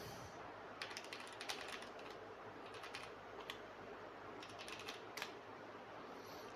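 Keys clatter on a computer keyboard as data is typed into an online form, with quick irregular clicks in short bursts over faint room hiss.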